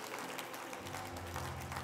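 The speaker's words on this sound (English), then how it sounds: "Can we stand up and give a clap offering to the Lord this morning?" Church congregation standing and clapping together during a morning worship service, a dense, steady wash of applause heard from within the room.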